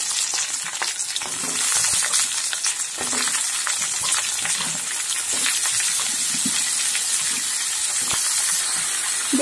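Chopped vegetables, including bottle gourd stems, carrot and eggplant, hiss and sizzle as they go into oil with fried onions, with occasional clinks and stirring scrapes over a steady frying crackle and no talking.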